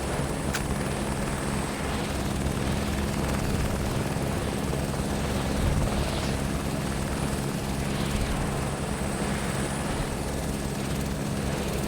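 Steady, loud engine drone of an aircraft taxiing to the runway in Microsoft Flight Simulator 2024, a continuous rotor-like hum with tonal low harmonics and no talk over it.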